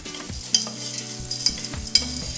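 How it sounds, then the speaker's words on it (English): Frozen peas and corn are stirred in a pan with onion, garlic and chilli, giving a soft sizzle under a few scraping, clinking strokes of a utensil. "just chuck in about a cup. Yep. Just give that a bit of a stir around."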